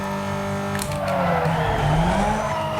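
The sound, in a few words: race car driving in video game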